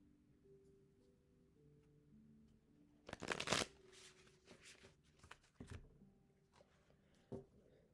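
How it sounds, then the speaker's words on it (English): A deck of tarot cards is shuffled close by, with a few quick riffling bursts and soft handling taps between them, against a quiet background. "let's give this a proper shuffle."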